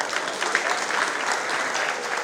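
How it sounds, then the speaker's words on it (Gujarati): An audience at a Sardar youth organisation prize-giving and youth talent felicitation ceremony claps steadily, a dense, even wash of many hands at moderate volume without a break. "એકવાર જોરદાર તાળીઓથી વધાવો"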